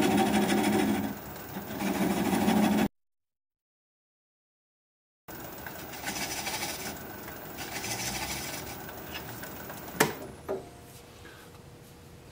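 A wood lathe turns a small piece of wood at about 400 RPM, a continuous rough scraping and humming with a dropout partway through and a sharp knock near the end.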